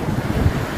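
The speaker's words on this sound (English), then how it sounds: "The sound of the waves, the warm sand beneath our feet," Broadband surf wash at Muzhappilangad beach in Kannur, Kerala, steady and close with wind rumble on the microphone, no voices over the roar.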